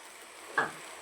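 Spices sizzle in hot oil for a breadfruit and dried shrimp masala: chili powder, coriander powder, turmeric, garam masala, fennel, star anise, cloves and cardamom. A faint steady hiss swells into one brief, louder sizzle, then settles back.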